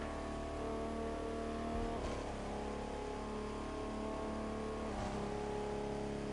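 A twin-turbo three-cylinder car engine in The Crew 2 racing game holds a steady, droning hum at moderate level, with a brief shift in pitch partway through and no talking.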